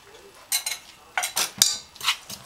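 Cake batter with butter being stirred in a bowl, a spoon producing several close, irregular scraping swishes in short bursts with quiet gaps between.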